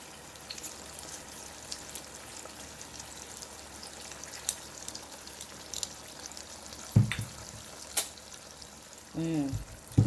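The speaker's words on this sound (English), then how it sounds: "I'm just going to stir that in to the pork" Pork chops fry in a pan as honey barbecue sauce is stirred in, a low, continuous sizzle with soft stirring scrapes and a few clinks, while a voice talks briefly near the end.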